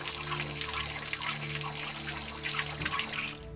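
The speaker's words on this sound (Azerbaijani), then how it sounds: "Amma indi bütün qoyulan krantların hamısından su gəlir." Water gushes steadily from newly installed taps at a spring, a continuous close splashing flow with a low hum underneath.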